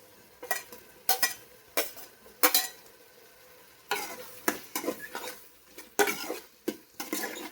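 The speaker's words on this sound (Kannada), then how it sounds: "ಈಗ ಮಶ್ರೂಮ್ಸ್ ತೊಗೊಂಡಿದ್ವಲ್ಲ ಅದನ್ನು ಹಾಕ್ತಾಯಿದ್ದೀನಿ" Mushrooms go into a hot pan with garam masala, giving a soft sizzle broken by repeated scraping stirs and spoon clinks against the pan, close by and fairly quiet.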